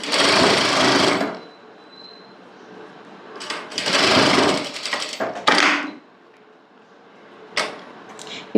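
A sewing machine stitching salwar pants runs in loud, fast whirring bursts, two long runs and a few shorter ones, with quiet pauses and small handling clicks between them.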